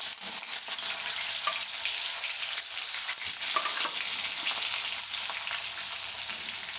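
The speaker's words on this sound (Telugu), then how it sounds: "ఉల్లిగడ్డలు పోపు వేసుకోవాలి" Onions frying in oil in a kadai, a steady broadband sizzle with occasional crackles and stirring scrapes throughout, fairly close and continuous with no talk.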